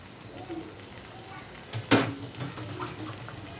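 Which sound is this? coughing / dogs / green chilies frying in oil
green chilies frying in oil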